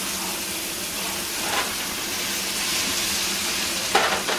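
Onions fry in a pan with a steady soft sizzle and hiss close by, with a few faint clinks from stirring, without talk.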